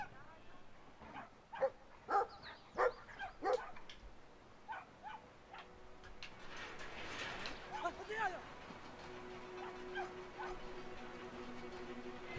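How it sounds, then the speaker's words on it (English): A small dog in the video game Brothers: A Tale of Two Sons barks in a quick run of sharp yips followed by whimpering, moderately close, with game music and ambience underneath. "He's afraid of such a little dog."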